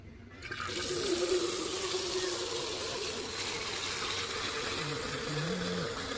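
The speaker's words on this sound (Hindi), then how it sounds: "तो हम यहाँ से पानी भर लेते हैं इस टैप से।" Water runs steadily from a park tap into a container, a continuous close gushing stream that starts abruptly and holds even, with faint voices in the background.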